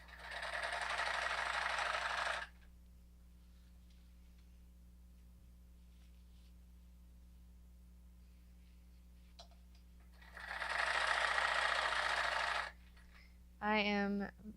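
A digital sewing machine stitches black crushed velvet fabric in two steady whirring runs of about two seconds each, close and moderately loud, separated by a long quiet pause, with a brief burst of speech at the end.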